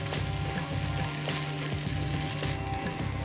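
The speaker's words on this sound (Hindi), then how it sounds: "लो फ्लेम रख के हम 1 से 2 मिनट इसे भून लेंगे।" Chicken marinade paste sautés in butter over a low flame, giving a continuous soft sizzle with faint scraping from stirring, steady and close with no voices.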